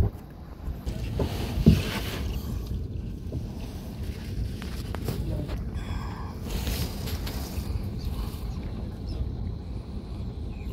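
A diesel fishing boat out on the water off Trombay Koliwada, its engine a steady low rumble throughout, mixed with wind buffeting and splashing, close and continuous.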